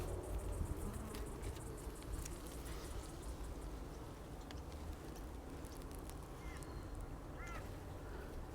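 Honeybees buzz steadily around an open hive during an autumn inspection, a dense, continuous hum close by with a low rumble underneath and a few faint clicks of handling.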